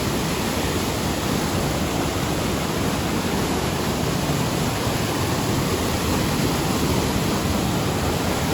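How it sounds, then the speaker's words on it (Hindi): Steady, dense rush of a waterfall in the Valley of Flowers, Chamoli, India, loud and continuous throughout with no pauses or other sounds. "झरना आ रहा है ऊपर की तरफ से, कितना मस्त आवाज़ आती है ना झरने की"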